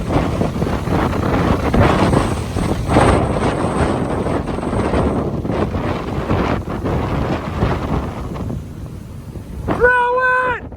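Strong wind at Delray Beach buffets the microphone in a loud, continuous roaring rush with gusty surges, then dies away abruptly near the end, where a short rising tonal sound appears.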